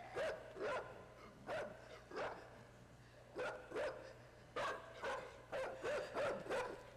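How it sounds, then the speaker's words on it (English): A dog barks repeatedly in short clustered bursts, sometimes doubled, in the video game Inside, over a constant low hum; the barks sound a little distant and fairly faint. "there's a dog there. Watch it. Oh, he's gonna start barking."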